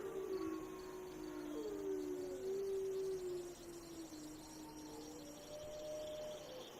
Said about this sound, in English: you guys hear the sounds of wolves out and around through the woods